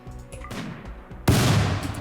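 Gunfire in RimWorld: a quieter spell of scattered shots, then a sudden loud burst of dense, sustained firing that carries on to the end.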